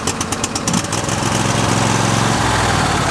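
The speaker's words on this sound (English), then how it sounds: "That's how it should start up with one crank on a relatively warm engine out there. Nice smooth idle" Briggs and Stratton lawn mower engine, warm, catches on one crank with a choked start, then settles into a steady, loud, smooth idle rumble close by.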